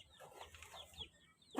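A flock of about 55 mixed-size laying hens clucks softly and intermittently, with faint, scattered calls at some distance and one louder, sharper cluck at the end.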